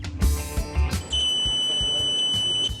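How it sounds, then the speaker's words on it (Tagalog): A digital multimeter beeps for continuity while it tests a fuse from a safety switch. A sustained, unbroken high tone starts about a second in and holds, after brief handling clatter. "For digital multimeters, a continuous beep means that the fuse is functioning well."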